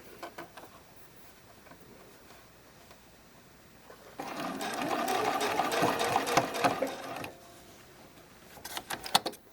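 A sewing machine stitches a bralette cradle in one quick burst of rapid needle clatter lasting a few seconds, close but fairly soft, framed by quiet handling noise and small clicks.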